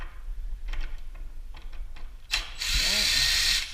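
A power drill runs in short bursts while screws are driven to fit a replacement entry door knob. It ends in a longer, loud whirring run close by.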